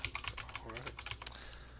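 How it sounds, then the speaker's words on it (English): Rapid typing on a computer keyboard, a steady run of light, close clicks and taps that thins out toward the end, with no talking. "Everyone prepare for the ASMR tippy-tappy section as I write on my keyboard."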